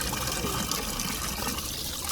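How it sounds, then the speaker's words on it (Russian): Water runs steadily from a public drinking fountain in Lebanon, a continuous close trickling splash with no talk over it. "Здесь находится фонтан, и я могу пить воду."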